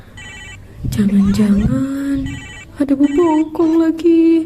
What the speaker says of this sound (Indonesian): Suara HP mainan punya Kamid bunyi sendiri